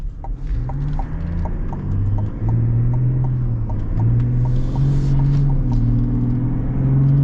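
Ram truck with an inline-six engine accelerating from inside the cab: a smooth, low engine drone climbs and steps through gear shifts, with a steady, loud hum and no talk.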